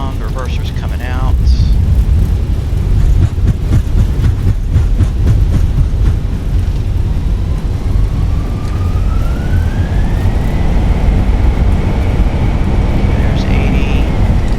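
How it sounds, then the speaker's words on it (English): A simulated Airbus A320 in Microsoft Flight Simulator touches down and deploys its thrust reversers, producing a loud, steady broadband engine roar with a rising whine that continues throughout. "And touchdown. Reverser's coming out."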